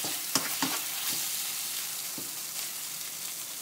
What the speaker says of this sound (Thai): ผัดต่อค่ะ